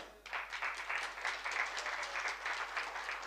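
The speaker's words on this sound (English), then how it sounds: "Let's give a round of applause." An audience claps in a round of applause at the opening of the first Armenian Grand Prix backgammon tournament, a dense, even patter of many hands that starts abruptly and holds steady, heard from a moderate distance without talk.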